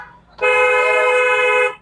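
A single loud, sustained car horn blast lasting over a second, close and clear with no talk.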